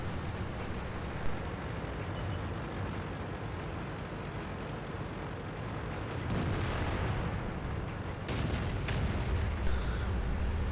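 Artillery fire in a tank video game booms as a continuous low rumble, with heavier thuds and blasts around the middle and near the end. No voices are heard.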